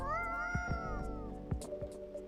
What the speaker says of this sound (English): Just a regular old cat.